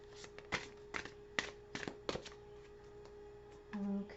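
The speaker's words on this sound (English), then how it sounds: "So I'll just give these cards a little shuffle here before we begin." Tarot and oracle cards are shuffled by hand, giving a run of soft, quick riffling snaps in an uneven rhythm, close and fairly quiet, with a faint bit of handling at the end.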